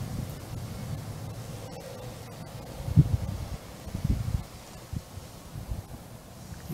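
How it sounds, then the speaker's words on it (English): Wind blowing outdoors ahead of a July thunderstorm, a low rumbling buffet on the microphone with gusts swelling and easing, mixed with a faint rustling hiss. "the wind's starting to blow now"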